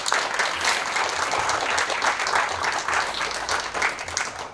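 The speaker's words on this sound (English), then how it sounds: "Let's give a clap for Freddy Torres." A crowd at a football honor bowl event applauds a Marine first sergeant taking the stage, loud sustained clapping from many hands with a faint low rhythmic tone beneath, tapering slightly toward the end.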